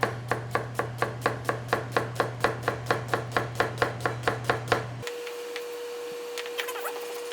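A knife chops an onion finely on a board in a steady run of about eighteen sharp, evenly spaced cuts with a low hum beneath, then the chopping stops and a faint tone continues.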